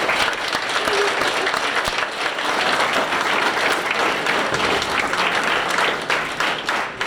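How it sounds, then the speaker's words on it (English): A crowd at a morning pathway celebration ceremony claps in sustained, dense applause that holds at a loud level for several seconds, with faint voices mixed in. "Everybody, just give yourselves a round of applause for that."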